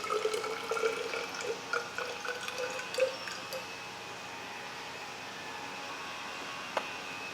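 Distilled water is poured into a laboratory flask holding KHP crystals, making a light trickling splash with small drips and clinks, strongest at first then thinning to a faint hiss before a single late tap.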